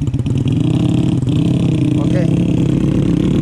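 A small ojek motorcycle used on rural rice-field paths revs loudly and close by, its engine rumbling steadily with a throaty pulse, while someone speaks briefly over it.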